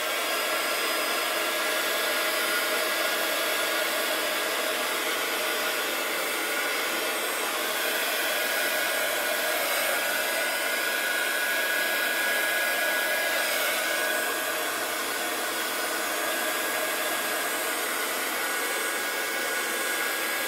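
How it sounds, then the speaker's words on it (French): A heat gun blows hot air over embossing powder on a handmade card, a steady loud whooshing roar that runs unbroken and alone for about twenty seconds. "je vais faire du bruit avec mon heat gun"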